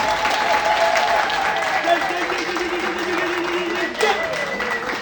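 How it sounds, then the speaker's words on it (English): Audience applause for a literary festival team at a speech event in Harare, a dense, steady wash of clapping across the whole stretch, with a voice talking faintly over it. "So I would want us all to sincerely applaud the LitFest team"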